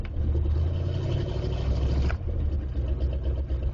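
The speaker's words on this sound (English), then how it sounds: "Looks like it'll idle roughly, but it'll idle." A 1977 Oldsmobile Delta 88 engine idles roughly just after a hard cold start in snow, a loud, steady low rumble with a brief dip partway through and no voices.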